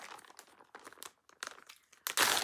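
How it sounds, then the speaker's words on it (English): Packaging crinkles and crunches in a run of short bursts with brief gaps, ending in a louder, sustained rustle close by. "sorry for the crinkling"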